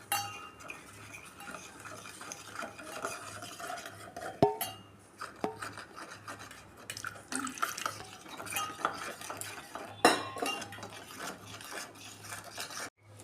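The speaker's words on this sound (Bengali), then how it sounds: "এই যে জল দিয়ে আমি মশলাটাকে গুলে রাখছি।" Spice paste being stirred into water in a small bowl while cooking a chana dal recipe, soft irregular clinks of a spoon against the bowl and light liquid swishes, fairly quiet.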